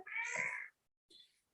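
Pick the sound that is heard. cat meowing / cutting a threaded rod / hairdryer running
cat meowing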